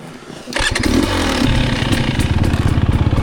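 Dirt bike fitted with an FMF Gnarly exhaust pipe, on single track in Michigan, starts up and runs loud and close, its engine settling into a steady, rapid thrumming idle with a slight clatter.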